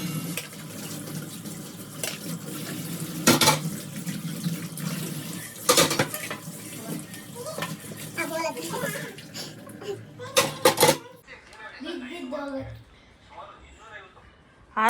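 Dishes and pots are scrubbed in a home kitchen under a running tap, with water hissing, metal clattering and sharp knocks of utensils, while people talk nearby over the washing.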